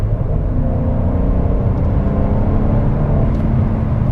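A 2021 Mercedes-AMG GLC 43 SUV accelerating in sport mode, its engine giving a steady, loud, close low rumble and whir that holds evenly throughout with no talk over it.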